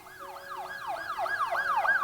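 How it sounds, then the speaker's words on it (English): An ambulance siren in the hospital management game Project Hospital wails in a fast, repeating up-and-down sweep that grows slightly louder over about two seconds, heard alone without speech. "That sound of the ambulance reminds me."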